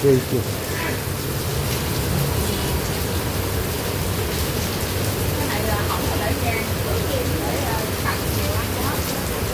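Heavy rain pouring outdoors on a street, a dense, even hiss that holds steady from start to finish with no voices over it.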